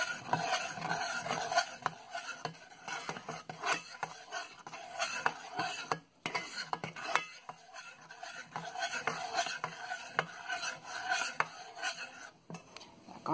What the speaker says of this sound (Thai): คนนะคะให้ผงวุ้นกับตัวกะทิเข้ากันนะคะ